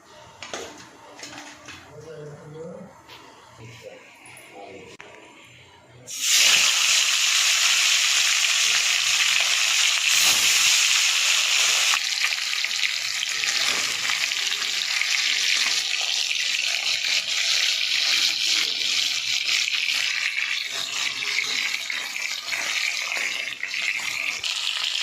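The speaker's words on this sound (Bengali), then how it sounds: "মাছগুলো ভেজে নেব।" Fish rubbed with salt and turmeric drops into hot oil in a wok, a loud sizzle bursting in partway through and holding steady after quieter kitchen sounds at the start.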